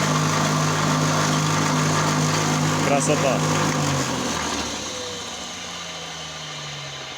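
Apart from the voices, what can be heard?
electric motor of a homemade grain crusher running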